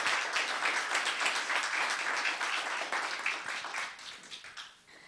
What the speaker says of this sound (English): Let's have a round of applause for Inderlee